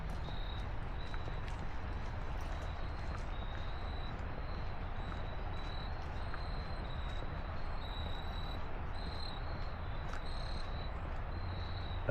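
Steady outdoor insect chorus of cicadas and crickets in Columbia, South Carolina, a continuous high buzzing drone with repeated chirping pulses, constant throughout with no voices.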